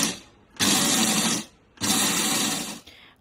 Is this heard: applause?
no